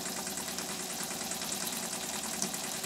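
A Weeden model toy steam engine with boiler chugging steadily with rapid rhythmic puffs and hissing steam exhaust, close and continuous, with no voices.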